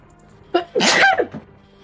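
A single sharp sneeze, close and loud, with a short breathy intake just before and a brief trailing sound after.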